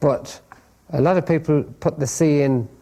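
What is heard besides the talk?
No distinct noise like a dog, phone or traffic.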